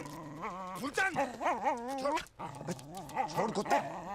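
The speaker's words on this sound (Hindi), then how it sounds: "छोड़ कुत्ते, छोड़! अबे कुत्ते छोड़!" A dog growls and yips while biting and tugging at a man's trousers, its snarls tangled with loud, agitated shouting from people nearby.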